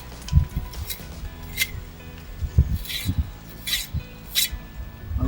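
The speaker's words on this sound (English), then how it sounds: "just pulling the trowel down like so" Steel trowel pulled down over mortar in a brickwork joint during repointing: a series of short, separate scraping strokes, close and fairly crisp, spaced irregularly about half a second apart, with no speech.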